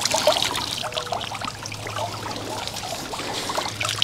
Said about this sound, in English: I'm going to turn the fountain off because it's splashing me.